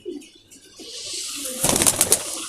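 Pigeons kept by a Hindi-speaking hobby keeper cooing and flapping nearby, a soft scattered murmur that turns into a loud burst of wing flaps toward the end.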